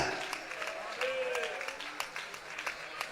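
A church congregation claps steadily throughout, a dense patter of many hands under a pastor's voice speaking over it.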